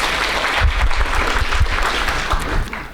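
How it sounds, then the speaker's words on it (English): Conference audience applauding a presenter's assistant, a dense burst of clapping from a crowd filling the room for a few seconds, close and fairly loud with no talk over it. "Clap for him, please."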